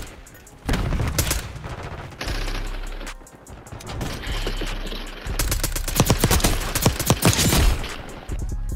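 Rapid automatic gunfire from a Black Ops 6 multiplayer match, with dense bursts of shots and booms that stay loud throughout, pausing briefly and then resuming in fast rattling volleys near the end.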